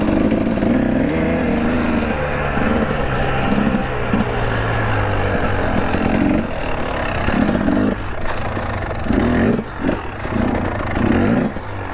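A Husqvarna TX300 two-stroke trail motorcycle revs repeatedly, its engine rising and falling in sharp throttle blips over a steady idle, close and loud throughout.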